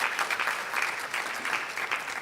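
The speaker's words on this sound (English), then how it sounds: "Yes, a round of applause." A short round of applause from an audience at a women's digital trade fund launch, moderately quiet clapping that is dense and even, with no voices over it.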